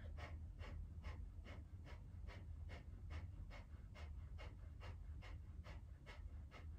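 Quick, even pumping breaths from Kundalini yoga practice, about two forceful exhales per second, steady and rhythmic, fairly quiet and close with no talking.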